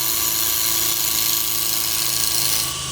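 Steady, continuous whirring hum of a wood lathe as a gouge, used on its wing like a skew, makes a slow shearing cut on a small turned chain ornament, even and close throughout with no talk.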